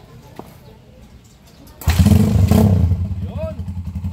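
A Honda TMX155 motorcycle converted to a 200cc engine cranks and catches, then settles into a loud, close idle with a throaty, uneven putter; a voice is heard briefly.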